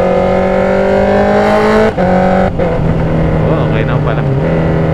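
A Honda CB650R motorcycle with autoblip downshifts, its engine note dropping in stepped pitch changes with brief blips between gears, loud and close, while someone speaks briefly over it.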